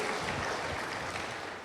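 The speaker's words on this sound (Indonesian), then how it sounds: "boleh berikan tepuk tangan bagi Tuhan" Church congregation applauding, a dense, steady wash of many hands clapping together that fills the room evenly and fades slightly at the end, with no voices on top.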